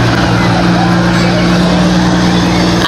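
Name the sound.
big tow truck passing in a Christmas parade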